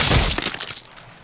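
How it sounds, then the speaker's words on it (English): A window's glass shot out in the Deadpool video game on PC: a sharp, loud shatter, then scattered tinkling shards falling and fading over about a second, no talking. "I'll shoot out the window!"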